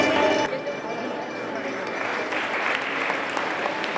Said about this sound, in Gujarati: તાળીઓથી એમના સન્માનને આપણે વધાવી લઈશું.